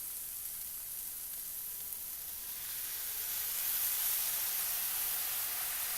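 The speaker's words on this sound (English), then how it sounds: "Nice and sizzling." Water and seasoning mix sizzling in a hot pan, a steady broadband hiss that swells louder midway and holds there, close and continuous with no talking.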